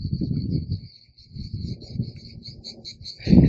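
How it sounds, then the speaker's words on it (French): High, buzzing cicada chirps pulse steadily in the background by the Étang de Bages lagoon near Gruissan, while low rustling and muffled sounds come and go nearby. "On entend les cigales, c'est merveilleux."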